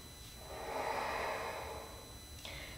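Slow, full deep breath during a seated yoga stretch, a soft airy swell rising and fading over about two seconds, quiet and close, with a faint sniff near the end.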